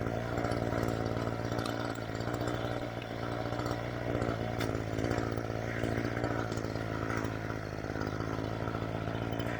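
An Echo CS-3410 chainsaw idles loudly and continuously at an unusually high, steady pitch in cold weather, with no pauses and no talking.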